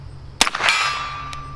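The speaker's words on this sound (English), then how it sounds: "The silver gong with the green center, easy to hit, rings nice with the 22." Silver steel gong with a green center at 50 yards struck by a .22 bullet from a Remington Nylon 66 rifle: a sharp crack followed by a single bright metallic clang that rings and decays over about a second.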